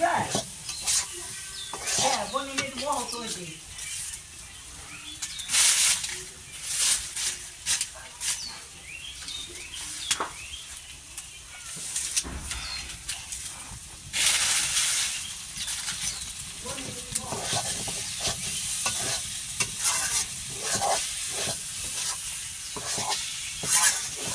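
Beef fries in oil in a pan, with continuous sizzling broken by repeated scraping and stirring strokes over a long stretch.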